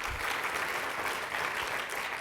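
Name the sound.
audience round of applause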